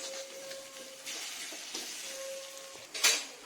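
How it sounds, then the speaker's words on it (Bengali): Soft sizzling of chicken masala with salt being stirred and sautéed in oil, with faint scraping and light utensil clinks and a brief louder scrape near the end. "কিছুক্ষণ এটাকে কষবো যতক্ষণ এটা তেল ছাড়"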